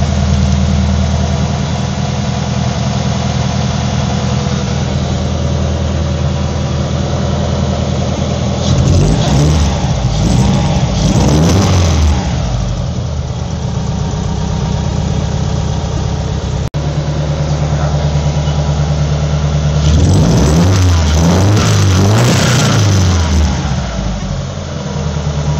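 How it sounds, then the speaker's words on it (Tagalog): A car engine with a faulty fuel pressure regulator idles steadily and loudly up close, then revs up twice in long, swelling bursts before settling back to a low idle. "Kainitin ko yung makina."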